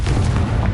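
A booming blast from the Confringo fire spell in the video game Hogwarts Legacy, a loud, sustained rumbling burst that fills the whole moment.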